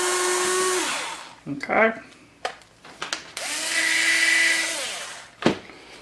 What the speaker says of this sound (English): So now we have this hole drilled, we have this hole in here drilled